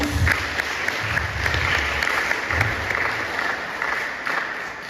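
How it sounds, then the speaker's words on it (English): A crowd applauds steadily, sustained clapping from many hands filling the room for the whole stretch. "Another round of applause, please."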